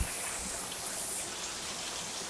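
Rain pours down outside in a steady, soft, even hiss with no breaks and no voices.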